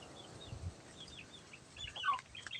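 A laying hen clucks in a quiet coop setting with soft, scattered clucks and short calls that are faint and somewhat distant. A brief louder cluster comes near the end.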